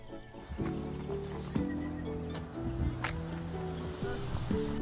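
A horse on a ride is heard quietly amid faint outdoor background noise, with soft irregular hoof sounds and a few brief knocks, fairly distant and low in level.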